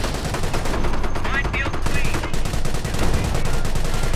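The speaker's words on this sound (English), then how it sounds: "Well, it has a 50 caliber machine gun on top of it." Rapid .50 caliber machine gun fire from the video game Company of Heroes rattles in continuous dense bursts, loud and close, over a battle din with other shots mixed in.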